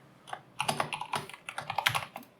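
Fingers type Go code on a computer keyboard in quick, uneven bursts of close, crisp key clicks with brief pauses between runs.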